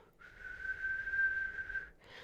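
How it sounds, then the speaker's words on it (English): A steady, thin whistle holds one pitch for nearly two seconds, soft and somewhat distant, with faint hiss before and after. "I seemed to hear a low whistle"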